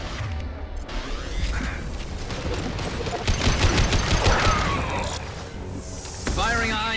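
Gunfire and high-impact shots in the Mass Effect 2 video game, a dense, loud burst of rapid weapon fire and blasts layered with game music and effects, with a character voice speaking over the action.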